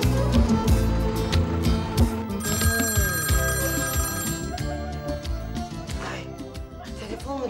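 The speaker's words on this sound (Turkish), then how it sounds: "Ay gecenin bu saatinde çalan telefon pek hayır olmaz." A telephone rings insistently late at night in a Turkish television drama scene, loud and continuous, its bright repeating tones layered over dense background sound with no clear talk.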